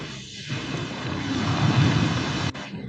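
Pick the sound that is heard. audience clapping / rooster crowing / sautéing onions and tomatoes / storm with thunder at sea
storm with thunder at sea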